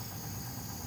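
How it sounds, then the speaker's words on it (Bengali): A boat engine running on Kaptai Lake, a steady low motor hum and vibration that stays constant and fairly loud throughout the short stretch, with no voices. "নৌকা চলছে"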